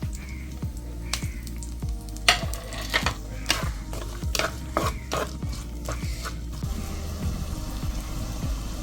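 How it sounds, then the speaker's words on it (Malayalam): Chopped shallots drop into hot oil and sizzle, with repeated stirring and scraping against the pan at a steady rhythm. "കുറച്ച് ചെറിയുള്ളി ഇതിലേക്ക് എണ്ണയിലേക്ക് ഇടാം"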